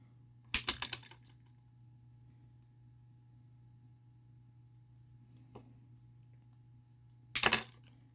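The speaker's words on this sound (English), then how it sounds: "So what I'm going to do is take some wire cutters, and I'll cut off this little section here to show" Wire cutters snip through a plastic Tamiya TT-01/TT-02 RC shock part, giving two sharp, close clicking snaps several seconds apart, with a faint tick between, over a steady low hum.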